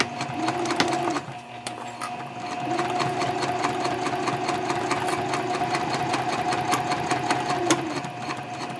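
A sewing machine bastes and topstitches straight across the flap of a messenger bag, running close and steady with rapid needle strokes and a brief slowdown near the start.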